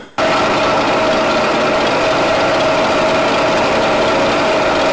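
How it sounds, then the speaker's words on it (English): A steady, loud mechanical whine of a 1/8 inch drill boring a hole in a ball, running continuously, high-pitched motor tone with constant grinding noise, no voices. "I have my 1/8 inch drill ready to drill the hole"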